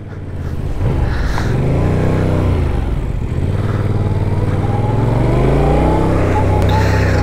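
A 2024 Yamaha MT-07 motorcycle riding along, its engine note rising and falling through loud throttle changes and revs, close and steady throughout with no talk.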